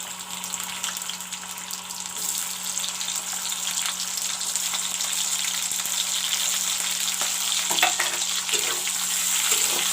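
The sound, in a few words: cut onions and bay leaf frying in a pan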